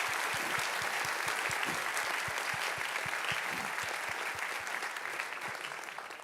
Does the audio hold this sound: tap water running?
no